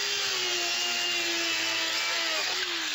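A DUALSAW CS 300 circular saw cuts through wood wainscoting with a steady, loud whine, holding a constant tone for three seconds with a slight dip near the end.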